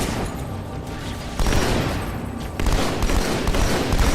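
Dense, continuous battle noise from the Halo 2 campaign, with heavy grenade blasts and rapid gunfire layered into a loud roar that jumps louder twice.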